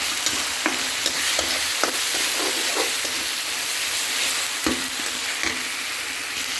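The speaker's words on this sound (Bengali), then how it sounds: "এখন এটাকে মিশিয়ে ভালো করে কষিয়ে নিলাম" A spice paste with onion is stirred and sautéed in hot oil for a chicken pulao, loud steady sizzling close by, broken by repeated scrapes and taps of a spoon against the pan.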